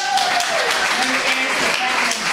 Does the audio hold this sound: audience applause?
yes